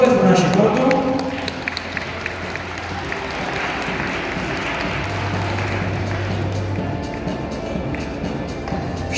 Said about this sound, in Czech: Velký potlesk pro naši portu.